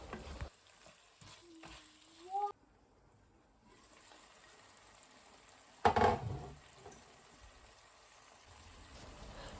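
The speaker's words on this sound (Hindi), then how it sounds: "मैंने जो भिंडियाँ फ्राई की हुई थी वो भी डाल के तो हल्की आंच पे दम पे रख दी" Fried okra added to an oily masala in a pot and left on low heat, giving a soft steady sizzle with a brief louder stirring clatter partway through, no talking.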